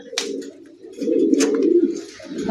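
A pair of Rajshahi Giribaz pigeons cooing close by, low throaty rolling coos rising and falling in a couple of phrases, with faint chirps above, no talk.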